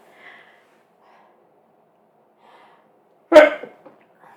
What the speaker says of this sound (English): Excuse me, I was sneezing.